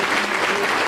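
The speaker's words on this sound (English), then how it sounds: "Give him a big round of applause" Steady, dense applause from a crowd of guests at a 40th birthday party, loud and continuous throughout with no pauses.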